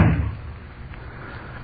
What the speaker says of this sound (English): Slammed the door, lost a pack of them.